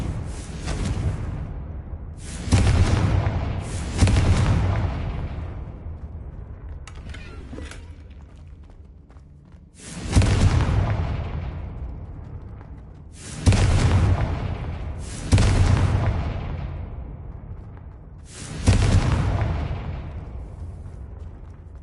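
Explosive spell blasts in a Hogwarts video game: six heavy booming bursts, each with a sharp onset and a long rumbling decay, spaced irregularly across the stretch with quieter gaps between them.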